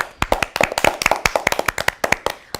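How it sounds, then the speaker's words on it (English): A small classroom group claps for a student, giving about two dozen sharp, distinct hand claps in a loose, uneven rhythm, close and clear with no talking. "Let us all clap for Purva."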